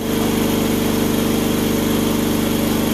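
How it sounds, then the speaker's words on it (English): An air compressor drones steadily and loudly in a boat workshop where a 1956 Chris Craft Capri is being stripped, a constant mechanical hum with a fast pulsing rhythm and no pauses. "sorry about the compressor"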